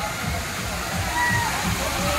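Continuous rushing and sloshing water of a wave pool, broad and fairly loud, with voices in the background.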